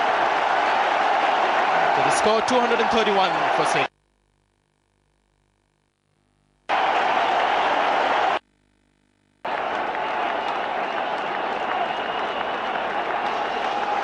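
A cricket crowd at an India versus England match in 2002 roars and applauds after a run out, sustained loud crowd noise broken by two silent gaps, with a commentator talking over it.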